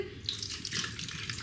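Coconut water pouring steadily from a container in a continuous close splashing stream, with no talking.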